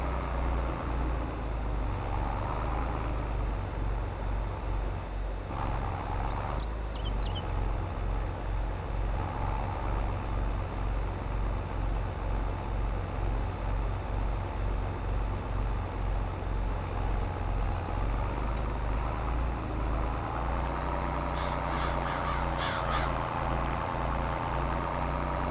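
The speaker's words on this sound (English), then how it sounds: "This tractor sounds amazing." A tractor engine in the video game Farming Simulator 22 rumbles steadily and loudly throughout, a deep continuous throb with a faint higher whine and slight shifts in tone near the end, with no talking.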